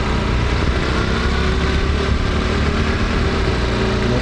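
Honda Super Cub engine labouring uphill in second gear, a loud, steady, close mid-pitched drone with wind noise and no letup.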